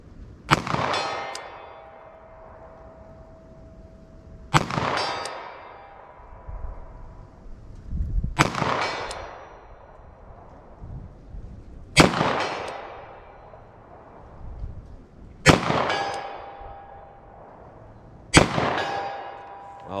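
Six sharp pistol shots of Blazer Brass hollow point rounds fired at a target, spaced roughly three seconds apart, each loud crack ringing out with a metallic decay.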